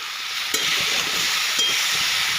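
Potatoes and vegetable stalks with salt sizzle steadily in a hot pan, with a couple of scraping stirs of a spatula cutting through the constant frying hiss.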